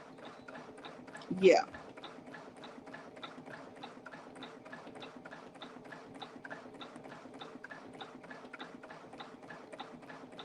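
Home embroidery machine stitching a built-in font onto a small tote bag, a steady rapid mechanical ticking that repeats evenly throughout, with a brief spoken word near the start.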